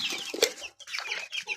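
Hungry hybrid free-range chickens clucking and squawking together, close and busy with short overlapping calls, no talk.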